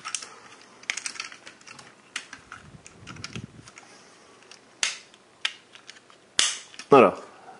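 Plastic parts of a Transformers Sentinel Prime toy click and snap as they are handled, a scatter of sharp, close clicks of varying loudness spaced irregularly, with a brief spoken word near the end.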